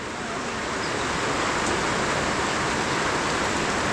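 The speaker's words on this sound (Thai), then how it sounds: "ฝนตกทุกคน" Steady rain falls around a village deep in a Lao forest, a dense, even hiss with no breaks, close and moderately loud throughout and with no voices.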